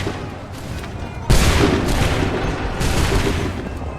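A musket volley fired on command in Assassin's Creed 3 crashes in suddenly after a quieter lead-in, followed by rolling, crackling shots and a second swell of fire, loud and close.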